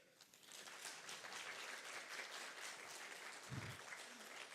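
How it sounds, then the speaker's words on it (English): Applause from an audience at the COSCUP x UbuCon Asia 2026 conference welcome day, a dense steady wash of clapping that fills the room for several seconds at moderate level. "Give them a big clap."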